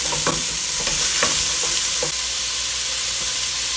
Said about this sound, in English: I'm going to go in with my peppers, my celery, and my garlic now. And let that wrestle around in there.